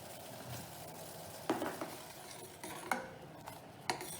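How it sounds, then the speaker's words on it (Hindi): A pot of masala chai with tea leaves and sugar gets stirred, with quiet spoon clinks and scrapes against the metal coming at irregular intervals over a faint, steady background. "इसको 1 मिनट चलाना है।"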